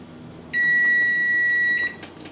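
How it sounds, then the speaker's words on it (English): A kitchen timer set to one minute gives a single steady electronic beep lasting just over a second, clear and close, against quiet room noise while noodles cook for ramen. "That's her 1 minute timer."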